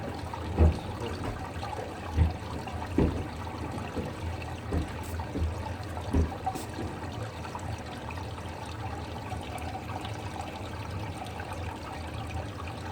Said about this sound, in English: Yeah, we got clear water flowing now.